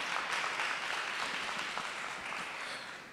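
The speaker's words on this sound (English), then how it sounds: "Please give a round of applause for both of our proposals tonight" An audience at a public meeting about Lake Arlington, Berry and Stalcup applauds steadily, a dense wash of clapping that slowly fades over a few seconds.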